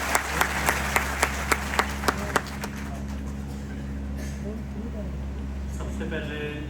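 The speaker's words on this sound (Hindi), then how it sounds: "एक बार ताली हो जाए उनके साथ।" An audience at an interfaith religious gathering in Chandrapur claps in about nine sharp, rhythmic beats, then the sound settles into a steady low hum with faint voices.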